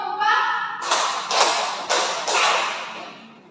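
Students in a micro-teaching classroom clap together four times in a steady rhythm, crisp and near, right after the teacher's voice gives the count.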